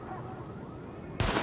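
A single sharp sidearm shot cracks out near the end, fired at highlighted targets in Tom Clancy's The Division, after a stretch of quieter game ambience.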